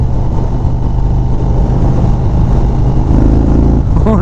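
A 2025 Indian Springfield Dark Horse motorcycle engine pulls hard under acceleration, a loud, close, steady low drone that rises in pitch near the end, with no voices.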